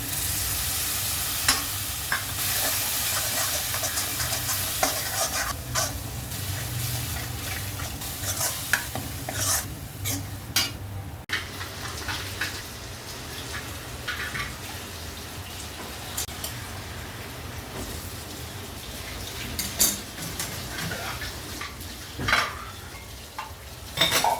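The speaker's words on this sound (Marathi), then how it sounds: "टॉमॅटोची प्युरी टाकून आपल्याला हे छान परतून घ्यायचं आहे" Tomato puree is sautéed with onion in a pan, giving a continuous close sizzle broken by repeated scraping stirs and occasional utensil clinks.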